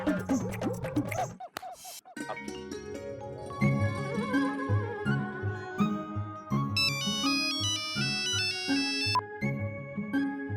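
A phone rings with a melodic electronic ringtone, a bright repeating musical tune that plays clearly and continuously after a short opening bit of sound.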